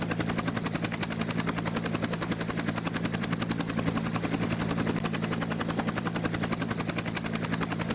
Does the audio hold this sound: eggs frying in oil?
no